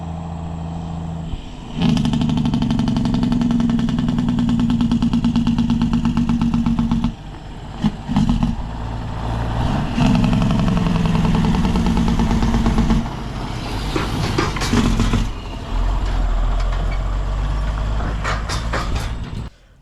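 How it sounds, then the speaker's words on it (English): A frameless end dump truck hauling concrete runs with its Jake brake engaged, giving a loud, close, steady rumbling drone that cuts out briefly a couple of times before roaring on again. "Won't you get yourself a load of these Jake brakes?"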